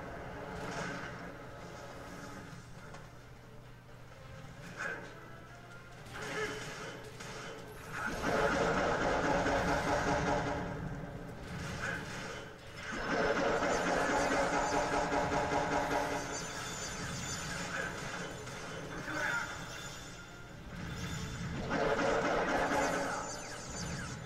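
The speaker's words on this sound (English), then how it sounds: "There's the motorcycle." A motorcycle engine in the video game Kamen Rider Battride War: a quiet start, then a mid-pitched engine swells and revs in long sustained surges, fairly loud and steady, with game effects beneath.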